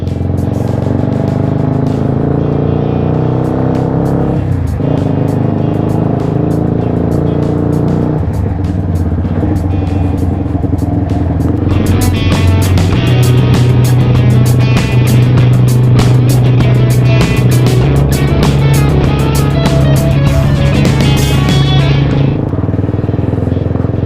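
A motorcycle engine runs steadily on the road, loud and close, with a constant throbbing drone that climbs into higher, busier revving partway through before easing off again.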